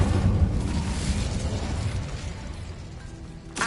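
Incendio, the fire spell in Hogwarts Legacy, is cast as a loud, close, explosive whoosh of flame that roars steadily for a few seconds and tails off, with a brief flare at the very end.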